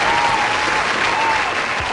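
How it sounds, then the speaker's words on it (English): Audience applause at a business coaching talk, a dense, loud, even wash of many hands clapping continuously from start to finish with no voices. "She does deserve a applause for this"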